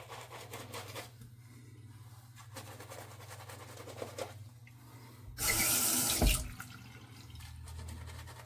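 A tap runs briefly during a wet shave, giving a short burst of rushing water of about a second under faint background handling noise, otherwise quiet with no speech.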